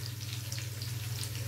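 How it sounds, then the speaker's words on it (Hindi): Onions and garlic frying in a pan over a low flame while being stirred quickly for masoor dal, giving a steady close sizzle with a low constant hum beneath and no talking. "अब इसको प्याज को ज़रा जल्दी जल्दी से चलाएंगे और चूल्हे को अपने फ्लेम को बिल्कुल लो कर देंगे"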